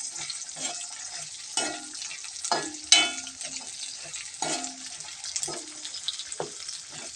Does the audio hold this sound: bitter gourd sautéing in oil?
yes